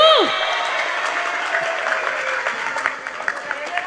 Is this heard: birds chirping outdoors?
no